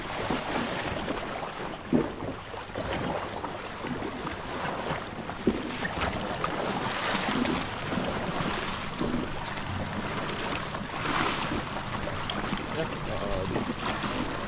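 A small wooden outrigger boat (bangka) rides on the sea amid continuous rushing water, wave wash and wind, with occasional knocks and faint voices in the background.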